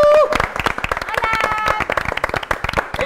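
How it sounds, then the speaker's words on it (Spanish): A small group applauds a woman from a Guatemalan family, with sharp, distinct handclaps in an irregular, lively patter close to the mic, after a brief vocal sound at the start. "¡Aplauso para esta señora hermosa!"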